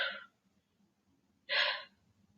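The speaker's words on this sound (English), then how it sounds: "Nice and strong breath." Strong breaths during a yoga exercise, two forceful airy exhales close to the mic, the second one longer, separated by a quiet gap.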